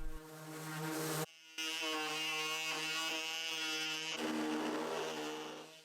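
Power sander running on the back of an old Art Deco wooden chest of drawers, a steady electric whine that cuts out briefly, restarts and drones on evenly at moderate level.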